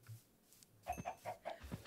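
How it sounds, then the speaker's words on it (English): Chickens cluck in a Minecraft farm, a quick run of short, close clucks following a faint clip of sound, with no talk. "That's a lot of chickens."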